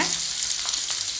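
Sliced big onions and green chillies sauté in hot oil for an egg masala gravy. A steady, close hiss of frying runs throughout with faint stirring, and no one talks.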